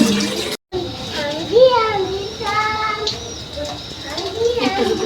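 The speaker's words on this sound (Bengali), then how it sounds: "আমি মাছটা ভালোভাবে ধুই, পরিষ্কার করা আছে, আরেকবার ধোবো" Pangas fish being rinsed in water in a home kitchen, soft splashing and sloshing running beneath a voice talking throughout.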